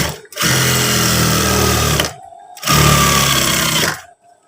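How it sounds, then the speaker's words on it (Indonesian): A sewing machine stitching trousers in two loud, close bursts of rapid mechanical whirring, each about one and a half seconds long, separated by a short pause. "Kita jahit seperti ini."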